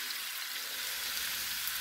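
Chicken and onion fry in a pan with a steady, soft, even hiss of sizzling oil, faint and unbroken, with no voices.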